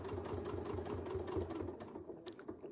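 A sewing machine doing free-motion stitching with very fine thread, a quick rhythmic run of needle strokes close by, easing off near the end.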